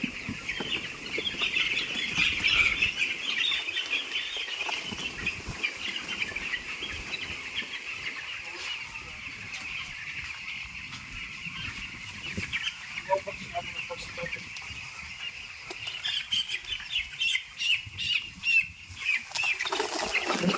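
Poultry farm chickens in a shed cluck and squawk with bursts of wing flapping as birds are caught from a corner, a busy continuous flock noise close by, with a voice occasionally heard.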